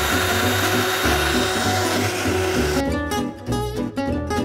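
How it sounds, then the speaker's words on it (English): An electric liquidizer pulverizes roasted almonds with a loud, steady grinding whir that breaks into choppier, stuttering bursts toward the end. "The electric liquidizer. Roasted almonds."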